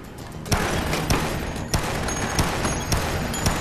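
Gunfire from a gun in the video game Dead Rising: a string of sharp shots roughly every half second over a dense, noisy game background, loud and close, with no speech.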